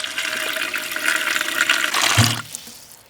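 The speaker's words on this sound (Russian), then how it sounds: "Все, заполним холодной водой." Cold water gushes and splashes steadily into a pot of sprat jars for a few seconds, then cuts off abruptly, leaving quiet.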